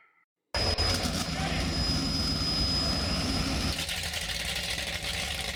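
A loud jet boat engine starts abruptly after a moment of silence and keeps roaring steadily, close by, with a faint voice underneath.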